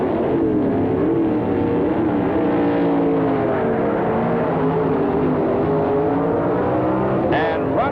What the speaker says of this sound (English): The Corvette leaves first with the handicap.